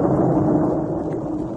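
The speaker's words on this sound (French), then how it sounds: "ballotté dans les vagues énormes d'une indescriptible tempête" A storm effect from a 1970 vinyl record: a steady, dense low roar of rumbling thunder and wind, loud and continuous without breaks or voices.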